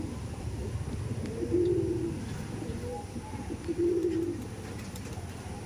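Pigeons coo in soft, rolling bursts, two clear calls a couple of seconds apart, close and moderately quiet over a low background hum.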